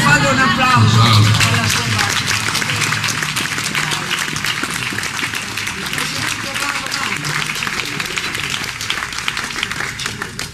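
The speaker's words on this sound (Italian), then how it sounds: "Non è vero, fate un applauso." An Italian audience breaks into applause: voices are heard briefly at the start, then continuous dense clapping carries on at a fairly loud, steady level.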